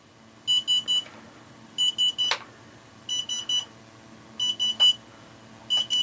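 A BetaFPV LiteRadio 2 SE radio transmitter sounds calibration beeps: repeated groups of three short, high electronic bleeps, evenly spaced, with a few faint clicks between groups.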